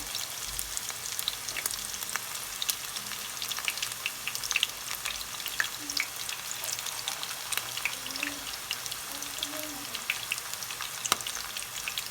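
Steady, close crackling of meatballs frying in oil, a continuous sizzling hiss with small pops scattered through it and no talking.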